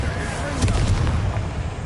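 An Expelliarmus disarming spell is cast in the Hogwarts Legacy video game, a loud, crackling magical blast with a cluster of sharp bursts partway through over constant game ambience.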